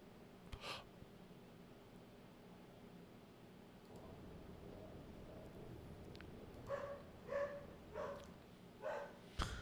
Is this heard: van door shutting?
no